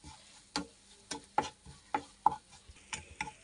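Turmeric, chili and coriander powders stirred and fried in a pan for singara filling, a series of distinct scraping taps of a spoon against the pan, about a dozen strokes, faint and close, no voices.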